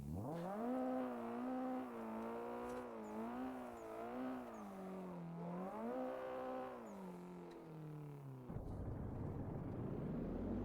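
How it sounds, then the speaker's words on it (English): A car drifting in the racing game Assetto Corsa: a loud, steady engine whine rises and falls with throttle for about eight seconds, then cuts to a rougher, noisier burst near the end. "clutch kick into a sort of drift, and then use the weight of the car and the acceleration control to go into the second sort of corner."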